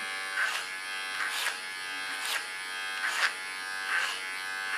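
Electric hair clipper buzzing steadily during a short haircut, close and fairly quiet, with soft rhythmic swells roughly every second as the blades pass over the head.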